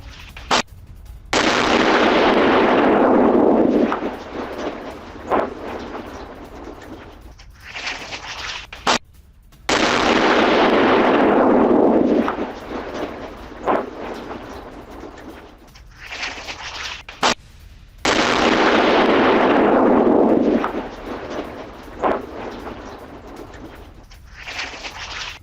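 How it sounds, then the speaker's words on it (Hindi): Three loud, sustained missile explosions roar in succession in Israel, each a broad rumbling burst that lingers and fades before the next, with sharp cracks and bird calls in the gaps. "ईरानी मिसाइल गिरने के बाद धमाका।"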